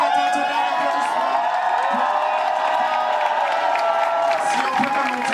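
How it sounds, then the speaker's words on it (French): Crowd at a drag show grand finale roars with cheering and applause, a loud continuous wash of voices and clapping that stays steady throughout. "faites un tonnerre d'applaudissements"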